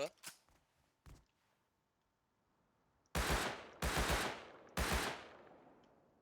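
Gunfire in the survival game Rust: a few faint scattered shots, then three loud, sharp bursts of rapid automatic fire spaced about a second apart, with a voice talking over the quieter early part.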